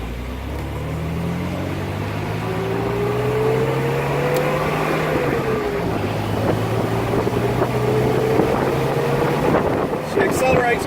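A 1969 MGC Roadster speeds up on the freeway, its engine note climbing steadily and loud, with heavy wind rush over the open car the whole way through.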